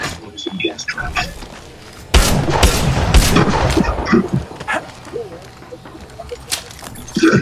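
Gunfire in Apex Legends Mobile: a dense burst of shots and booms fills the middle of the clip, loud and close, with quieter scattered game sounds and effects before and after.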